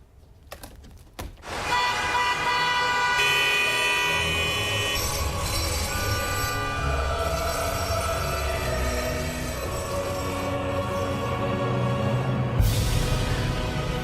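Heavy city-centre street traffic with rerouted vehicles rumbles steadily and loudly for the whole stretch, layered with sustained tonal horn or siren wails that shift in pitch and swell again near the end.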